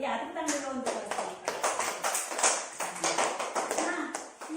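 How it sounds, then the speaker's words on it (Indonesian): A primary school class clapping hands together, a quick, uneven patter of many claps close by, with voices mixed in. "Ya, tepuk tangan dulu untuk Mas."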